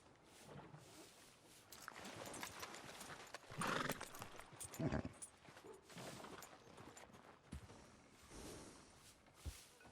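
Horse hooves clip-clop at a steady walking pace in the video game Red Dead Redemption 2, fairly close, with an occasional snort or whinny and some outdoor ambience.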